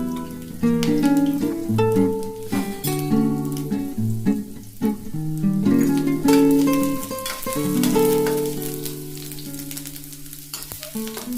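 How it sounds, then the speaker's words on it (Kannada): Garlic, ginger and green chillies sizzling in hot oil in a pan, a steady crackling fry with bursts of stirring, partly covered by background music. "ಶುಂಠಿ, ಹಸಿಮೆಣಸಿನಕಾಯಿ ಎಲ್ಲ ಸ್ವಲ್ಪ ಫ್ರೈ ಆಗಲಿ"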